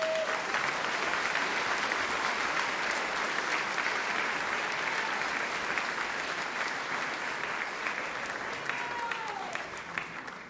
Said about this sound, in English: We can give them a round of applause as I switch pages.